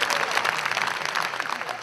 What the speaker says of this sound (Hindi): जरा मिल के तालियां बजाएं ना